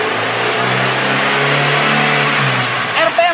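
A light vehicle's fuel-injected car engine revs up close in a workshop, a loud steady drone whose pitch climbs and holds, with a brief sound near the end.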